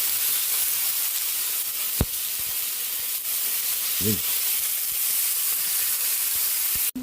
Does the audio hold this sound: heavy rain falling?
no